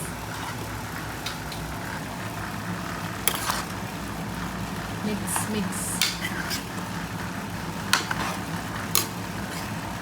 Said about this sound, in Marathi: मटण मटण आता मस्त आपण मिक्स करून घेऊ त्याला